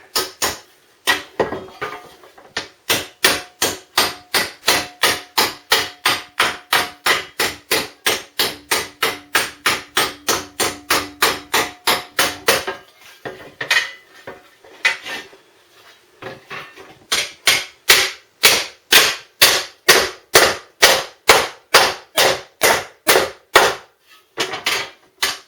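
A hammer strikes a motorbike spray guard in a home garage, a long run of rapid, evenly spaced sharp metallic blows, briefly pausing midway and then resuming in another steady, forceful series, close and loud with no talking.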